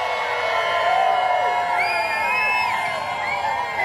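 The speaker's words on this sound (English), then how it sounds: "look at the crowd that is here on this beautiful day" A large outdoor crowd lining Houston Street for a parade and Longhorn cattle drive, a loud continuous roar of voices with whoops, children's shouts and cheering rising and falling across the scene.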